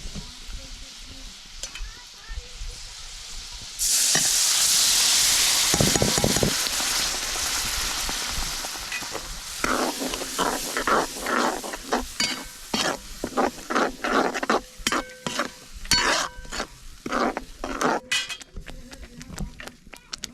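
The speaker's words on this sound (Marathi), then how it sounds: "आता मसाला घेतलाय भाजून आता वाटण टाकते" Freshly ground wet masala paste goes into a hot pan, bursting into a loud, steady hiss that settles into sputtering sizzles and repeated stirring clatter, close and without speech.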